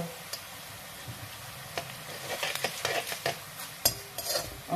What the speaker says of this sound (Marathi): डाळ परतायला अजिबात वेळ लागत नाही